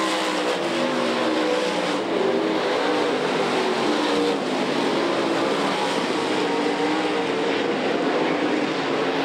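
Late model race cars roar around the Knoxville dirt track during the 2008 Lucas Oil Late Model Nationals, a loud, continuous engine drone with rising and falling revs as the pack passes, no voices over it.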